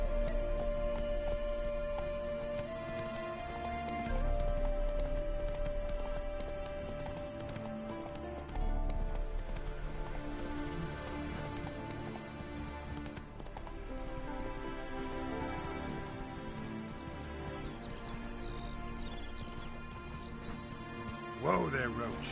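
Hooves of the horse Roach clip-clopping in the video game The Witcher 3, a steady rhythmic trot or gallop running under game music, faint to moderate, with someone talking over it.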